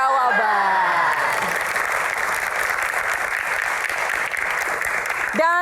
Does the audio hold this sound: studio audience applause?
yes